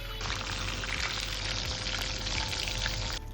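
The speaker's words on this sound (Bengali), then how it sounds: "এবার একটা কড়া বসিয়ে তাতে ভাজবার মতন সর্ষে তেল দিয়ে, তেল গরম হয়ে গেলে এগুলোকে আস্তে আস্তে ছেড়ে দেবো।" Poppy seed fritters wrapped in pumpkin leaves fry in hot mustard oil in a kadai, giving a steady, dense sizzle and crackle that runs unbroken from start to finish without any talking.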